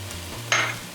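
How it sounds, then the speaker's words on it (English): Flour stirred into turkey and onion in a frying pan, a short scraping stir over a soft sizzle, close and moderately loud. "So just kind of stir it until that flour is sort of evenly coated"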